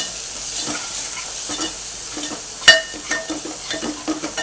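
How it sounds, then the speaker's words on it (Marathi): Spices with turmeric and salt sautéing in a pan for dry clam masala give a steady close sizzle, with irregular stirring scrapes and one sharper clink. "आता हेही परतून घेऊया मसाले"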